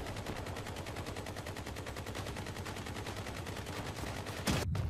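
Vehicle-mounted weapons in the video game Crossout fire a rapid, evenly spaced machine-gun stream that stays steady and loud for several seconds, then ends in a sharp, heavier burst near the end.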